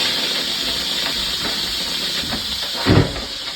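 A pressure cooker full of Jamaican oxtail-style neck bones gives off a steady, close hiss of escaping steam, with a brief louder puff near the end.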